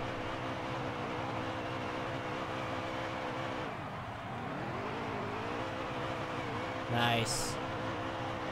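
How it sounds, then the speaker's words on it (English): Truck engine from the NASCAR Heat 3 racing game roaring steadily through burnouts, a sustained loud drone with a dip and swell in pitch, while someone talks over it briefly. "That's some good burnouts there."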